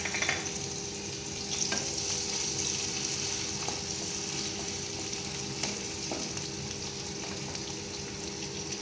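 Garlic and green chilli crackle and spit in hot oil in a kadai, a steady close sizzle with occasional stirring clinks throughout.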